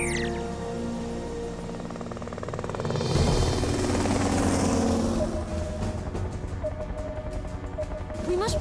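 Cartoon rescue helicopter in flight, a steady rotor and engine drone that swells louder around the middle and stays prominent, with animated character dialogue underneath.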